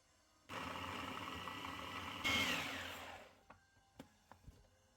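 A blender or food chopper purees cut-up tomatoes into a smooth sauce, its motor whirring loudly for about three seconds with the pitch rising and then spinning down, followed by a few soft knocks.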